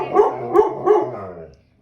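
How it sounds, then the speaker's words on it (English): A pregnant Sheprador dog barks three times in quick succession, close and fairly loud, the last bark trailing off into silence. "Jersey, please stop barking."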